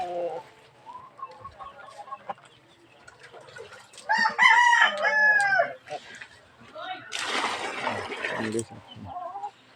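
Chickens on a backyard farm cluck in short bursts, with a rooster's loud crow rising midway and another squawking burst after; the birds sound fairly close.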